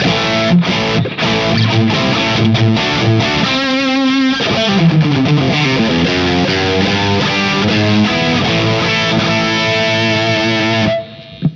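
Distorted electric guitar through a Headfirst Alta P1 tube preamp plays sustained chords and a sliding lead line, thick and saturated, ringing out alone before cutting off near the end.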